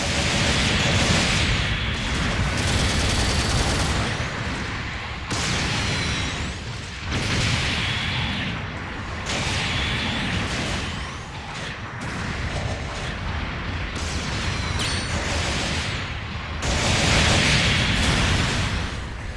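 Sustained, dense gunfire and explosive bursts from the Rebawoo mobile suit in Gundam Battle Operation 2. The loud barrage runs nearly the whole time, with short breaks between volleys.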